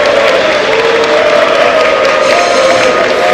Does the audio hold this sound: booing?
yes